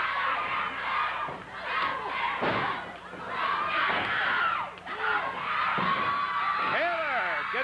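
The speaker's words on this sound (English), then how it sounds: "Crowd really getting into it." A Memphis wrestling arena crowd roars and cheers through a tag-team match, with loud continuous shouting, swelling whoops and a few thuds, a brief dip midway before the noise surges back.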